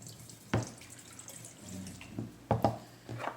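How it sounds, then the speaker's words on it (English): Water poured onto soil in a microgreens grow kit trickles and splashes in short bursts, with a couple of sharper pours and drips close by, no talk. "We'll add some water."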